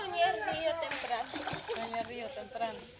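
Water splashes and sloshes as people bathe in a river, irregular splatters close by, with children's voices and talk mixed in throughout.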